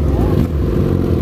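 A Suzuki SRAD 1000 sport motorcycle engine roars loudly and steadily up close, its throaty buzz filling the short moment with no clear pauses.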